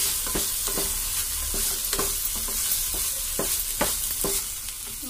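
Pre-fried cauliflower stir-fried in a pan for gobi manchurian fried rice, with a loud, dense sizzle and a regular run of spatula scrapes and clacks against the pan. No voices.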